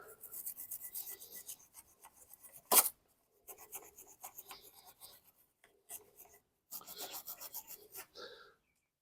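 Scraping and wire-brushing a rusty brake caliper bracket on a Toyota Highlander, rhythmic close rasping strokes in short bursts with brief pauses and one sharp louder scrape.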